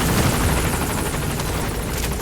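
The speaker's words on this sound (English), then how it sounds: "Go ahead and call the chopper." Helicopter arriving in Metal Gear Solid V: The Phantom Pain, a steady loud rotor drone with broadband whine held throughout, no talking over it.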